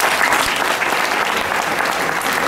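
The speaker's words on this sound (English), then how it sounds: "give him some applause" An audience claps steadily and fairly loudly throughout at a mind-reading show, a dense, even patter of many hands with no talking.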